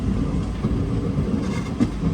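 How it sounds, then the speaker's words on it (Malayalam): A train rolls toward Udupi railway station, a steady low rumble of wheels and carriages close by with a faint clatter, running continuously without voices. "ട്രെയിൻ ഇപ്പോൾ ഉടുപ്പി റെയിൽവേ സ്റ്റേഷനിൽ എത്താനായി"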